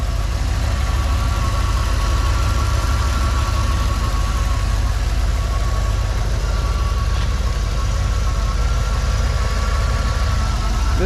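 A 1985 Chevrolet Camaro IROC-Z with a 5-liter tuned-port-injected 305 V8 idles steadily nearby, a continuous low rumble holding even for about eleven seconds with no talking.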